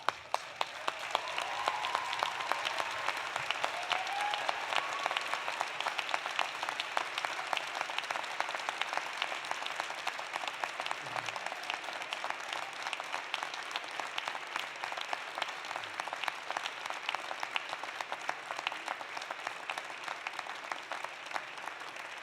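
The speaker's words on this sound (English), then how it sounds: "give them a huge round of applause" A university convocation crowd applauds at length, a steady wash of many hands clapping, heard from a distance and fairly quiet, continuing for over twenty seconds without fading.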